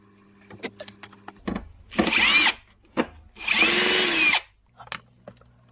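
A power drill backs out the screws on the side of a King Song 16X electric unicycle, with two sustained whirring bursts up close and brief clicks and handling noises between them.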